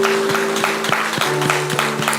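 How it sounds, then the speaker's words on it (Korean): Church congregation giving encouraging applause at the end of a Sunday service, a steady spread of many hands clapping with a low organ-like tone sustained underneath. "격려의 박수 한번 해주시기 바랍니다."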